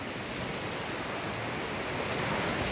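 Cold spring water runs steadily in Wondo Genet, Ethiopia, a continuous broadband rush that stays even and fairly close for the whole stretch, with no voices over it.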